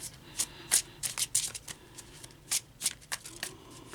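Tarot cards are shuffled by hand in quick riffling bursts, several short crisp flutters spaced unevenly, close and fairly soft.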